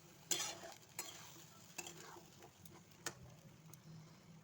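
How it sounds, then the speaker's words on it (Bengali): Marinated chicken stirred in a pan, faint sizzling broken by sharp spoon scrapes and taps at uneven intervals, close but quiet, without speech. "সুন্দর করে নাড়িয়ে চাড়িয়ে ভালো করে মিক্স করে নেব"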